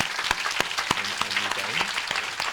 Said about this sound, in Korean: 자 한영 박수 드립시다.